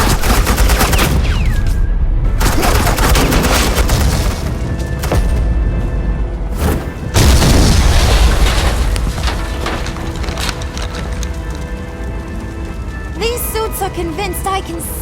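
Heavy suppressing gunfire and explosions in a Batman Telltale video game, a loud sustained fusillade of rapid shots and booms with voices mixed into the battle.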